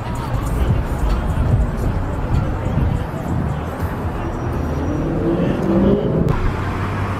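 Mercedes and BMW luxury cars roll past on a busy, sunny South Shore street, their engines and tyres a continuous close rumble mixed with crowd babble, while someone talks over the traffic.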